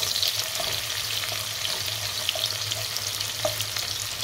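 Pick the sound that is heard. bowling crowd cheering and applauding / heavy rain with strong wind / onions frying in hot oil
onions frying in hot oil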